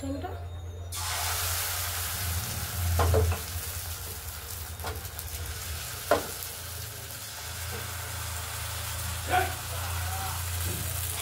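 Saru chapri flatbread cooks in a kadai with a little oil, giving a steady low sizzle and hiss with a few brief clinks and scrapes, while a voice talks intermittently over it.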